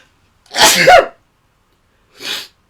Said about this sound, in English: I'm really sorry, I'm going to sneeze.